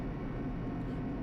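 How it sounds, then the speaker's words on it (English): A steady low mechanical rumble from a steel elevator descending in Danganronpa, dense and continuous with no clear separate clunks, heard alone at close range. "The elevator lowered, uttering its all too familiar clunking sounds."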